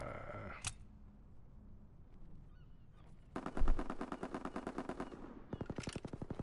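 Gunfire from a combat shotgun in the World War II shooter Call of Duty: WW2 comes as loud, rapid bursts of shots after a quiet start, with a short pause between two runs of fire.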